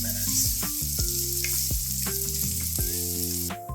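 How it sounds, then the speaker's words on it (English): Onions sautéing in a pan for a vodka sauce, a dense, continuous, close sizzle that holds steady throughout, with a few faint taps and background tones underneath. "We're gonna saute these onions for a bit."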